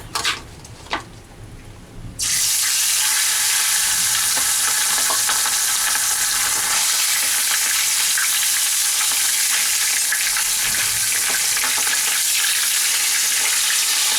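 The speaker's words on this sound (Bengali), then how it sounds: "এবার মাছের মুড়োটা ভাজার জন্য আমি এখানে সর্ষের তেল দিয়ে দেবো" Loud, steady sizzling of a katla fish head frying in hot mustard oil, starting abruptly after a few quiet clicks and crackling continuously to the end.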